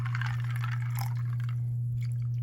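Water trickles and splashes into carrot juice with orange pulp for about a second, set against a constant low electrical hum.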